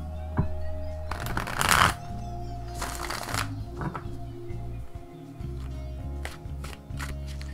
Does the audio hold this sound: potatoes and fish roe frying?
no